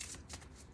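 A deck of tarot cards is shuffled up close, a quick papery riffle with soft rhythmic bursts, quiet and continuous with no talk.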